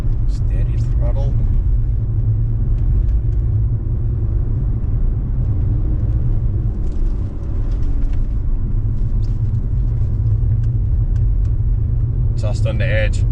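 Steady, loud engine drone from a car held at constant throttle on a race track at a track day, a continuous low rumble with occasional brief higher mechanical whines near the start and end.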